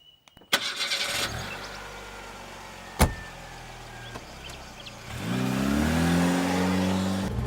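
A car engine cranks and catches after a door clunk, idles with a sharp knock midway, then revs up as the vehicle pulls away, close and fairly loud with no talking.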